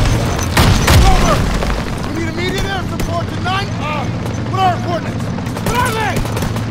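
Gunfire in Call of Duty: WWII, a loud booming burst early on followed by scattered shots, with someone talking over much of it.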